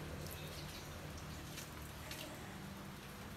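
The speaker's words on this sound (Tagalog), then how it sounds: "Ayan, umuulan." Rain falls steadily in a garden with orchids and flowering plants, a soft, even hiss with scattered faint drips.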